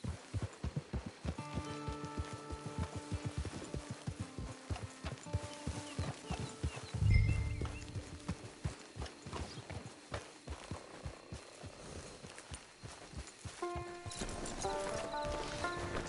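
A horse's hooves clip-clop in a steady, close rhythm in Red Dead Redemption 2, with a short whinny-like burst midway and soft ambient game sound beneath.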